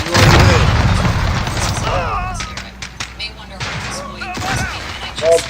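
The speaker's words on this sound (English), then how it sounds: "Throw a bomb" Bomb explosion in Call of Duty, a loud deep boom at the start that rumbles for a couple of seconds, followed by scattered thuds and gunfire-like bursts under a voice talking.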